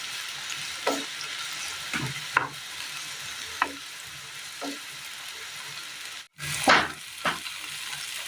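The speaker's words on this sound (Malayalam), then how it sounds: "ഇനി ഈ എണ്ണയിലൊന്ന് ഈ തക്കാളി ഒന്ന് വഴറ്റിയെടുക്കണം." Tomatoes sautéing in oil for a curry, a steady sizzle broken by several spoon scrapes and stirs against the pan, one louder stir near the end.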